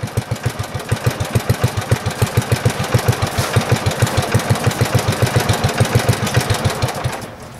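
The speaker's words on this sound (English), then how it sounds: "Runs pretty good even at low RPM." A 1958 Moto Mower engine idles at low RPM, firing in a steady, even chug of rapid low thumps close by, with no voices over it, then winds down at the end.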